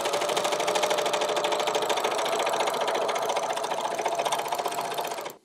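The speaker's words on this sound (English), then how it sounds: "I'm doing the inside of the leg first. It's the only thing I'm going to serge together." A serger runs steadily while stitching the inside leg seam of black jeans, a continuous fast mechanical whir and chatter heard close up for about five seconds before stopping.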